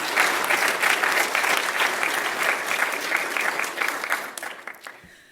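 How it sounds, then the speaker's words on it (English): Audience round of applause at an evening Holocaust Remembrance Day gathering, steady dense clapping from a crowd that holds for several seconds and then tapers off toward the end. "Can we please give everyone a round of applause?"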